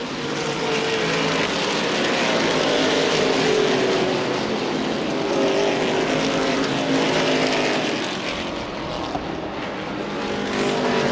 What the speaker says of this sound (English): A gaggle of cars coming off of turn number 2.